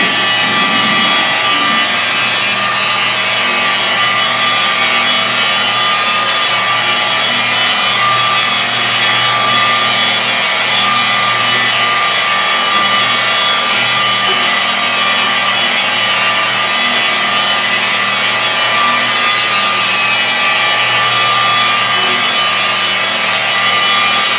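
A rotary buffer running at 1500 RPM while polishing car paint: a loud, continuous, close motor whine with a steady hum and broadband friction noise that holds unchanged throughout, with no talking.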